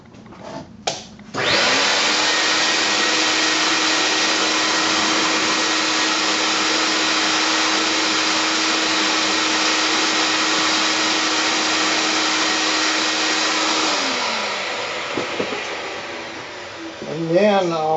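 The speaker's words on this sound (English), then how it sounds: "So what I'll do is take my shop vac and clean these out." Shop vacuum cleaning dust out of pocket screw holes in woodwork: a loud, steady whine starts after a brief knock and runs continuously for about twelve seconds before winding down into scattered handling sounds.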